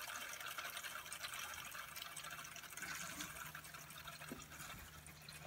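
Water from a reverse osmosis/deionization filter system for a reef aquarium pours steadily into a chamber, a continuous soft splashing and trickling fill with no voices.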